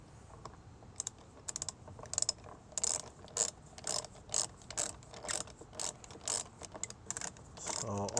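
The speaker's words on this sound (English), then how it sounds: "So all I'm doing is tighten the bolt back down." A hand ratchet tightens a bolt on the rear bumper of a Volkswagen Tiguan, giving repeated quick clicking bursts at close range with short pauses between strokes, no talk over it.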